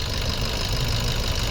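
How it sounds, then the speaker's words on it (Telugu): A 2017 Maruti Swift VDi diesel engine idles steadily up close, a constant low rumble with a faint rhythmic knock and no voices. "ఇప్పుడు బండి స్టార్ట్ చేసి ఇంజన్ సౌండ్ వినిపిస్తా చూడండి"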